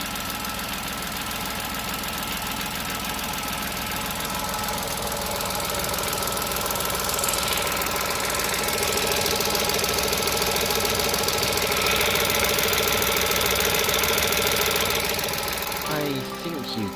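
A car engine running rough and knocking, a steady loud mechanical clatter with rattling over a droning idle, slightly rising in intensity before a brief shift near the end, with no talking.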